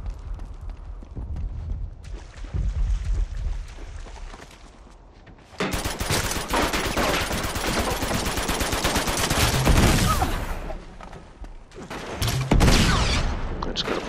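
Gunfire in an Uncharted 2 two-versus-two multiplayer match: quieter shots at first, then a loud, sustained burst of rapid automatic fire, a brief lull and further volleys, all close and dense.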